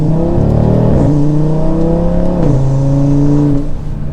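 An Audi RS3 performance car with all-wheel drive and a dual-clutch gearbox accelerates hard, its engine note rising steadily through quick gear changes, loud and close throughout.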